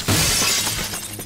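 A statue shatters in the video game Garry's Mod: one sharp, bright burst of breaking glass-like fragments, followed by a brief scattering tail, with no talk over it.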